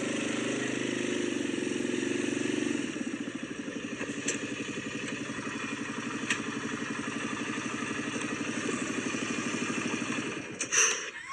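A small engine on a mini mobile cabin build idles close by with a steady rattling chug that slows and roughens partway through, then shifts near the end as it is shut off, with no talking.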